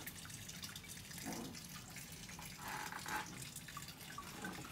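Water runs steadily from a Panasonic alkaline water ionizer, a soft continuous trickling stream with slight splashing swells, heard alone without talk.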